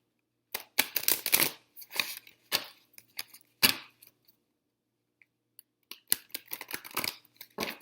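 Crisp riffling and slapping of a card deck being shuffled, several quick bursts separated by brief pauses, close and alone.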